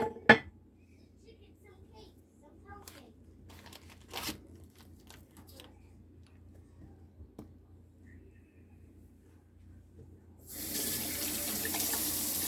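Dishes being washed by hand at a kitchen sink, among them silver spoons, a small stainless steel bowl and cast iron. Quiet clinks and handling come first, and then the faucet turns on and runs steadily and loudly near the end.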